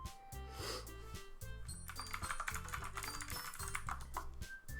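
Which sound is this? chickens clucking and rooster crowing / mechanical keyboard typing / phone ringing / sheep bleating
mechanical keyboard typing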